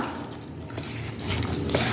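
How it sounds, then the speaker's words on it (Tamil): Water is poured into ragi flour batter in a kitchen, a short wet splashing and trickling that swells louder toward the end. "இன்னொரு கப் தண்ணி சேர்த்துக்கலாம்"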